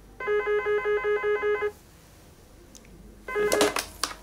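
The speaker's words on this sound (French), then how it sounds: "Vous pouvez décrocher le téléphone" A telephone rings indoors with a rapid electronic trill in a quick burst, stops, then starts ringing again after a short pause, loud and close, with brief rustling noise near the end.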